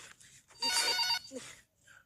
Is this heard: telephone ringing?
yes